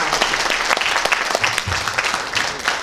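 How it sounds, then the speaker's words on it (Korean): Brisk, dense applause from the audience at a Korean leisure-movement vision proclamation ceremony during the ribbon cutting, clapping close and lively throughout the short burst. "네, 여러분 큰 박수 보내주시기 바랍니다."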